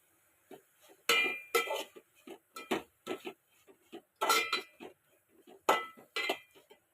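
Veg noodles with spring onion greens being tossed in a pan, a series of sharp metallic clinks and scrapes from a utensil against the pan in irregular bursts, fairly close, with no talking.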